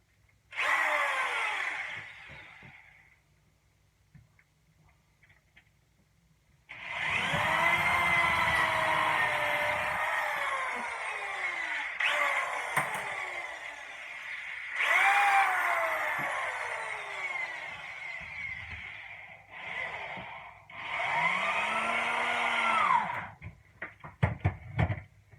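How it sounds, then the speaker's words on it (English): A power drill whines in several long bursts, rising and falling in pitch as it bores into wood while building a 30-foot dory boat, with short pauses between runs. "drill another hole"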